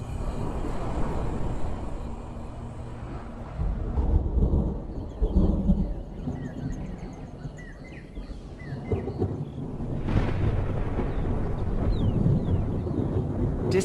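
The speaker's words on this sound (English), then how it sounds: "Distant thunder is a sign that the wet season may at last be coming." Distant thunder rolls and rumbles low across the African savanna at the start of the wet season. Several long, muffled swells rise and fade over about fourteen seconds under a faint ambient backdrop.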